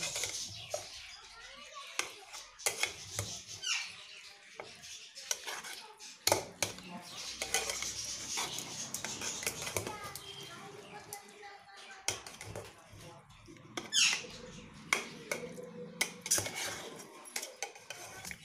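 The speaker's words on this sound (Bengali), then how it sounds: "তাই দেখুন আমি মিশিয়ে নিচ্ছি" Marinated chicken with salt and yogurt being mixed in a pot for chicken biryani, irregular clanks and scraping of a utensil against metal, fairly quiet and close, with a voice talking intermittently.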